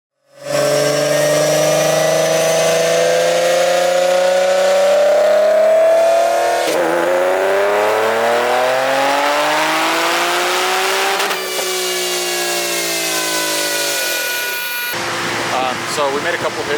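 A Stillen supercharged Nissan 370Z running on E85 roars loud and close through repeated dyno pulls, its engine pitch climbing steadily, dropping off and rising again, with supercharger whine high above the note and a voice briefly heard.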